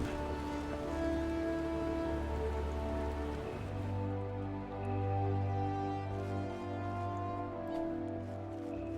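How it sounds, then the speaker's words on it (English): Rain falls continuously on a Final Fantasy XIV forest, a soft, even patter of drops running beneath held musical tones that shift partway through. "Ah, nice rainy forest."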